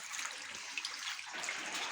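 A tin of water is tipped into a cooking pot holding canned Mexican-style tomatoes, giving a short, close, continuous pouring and splashing rush with no talk.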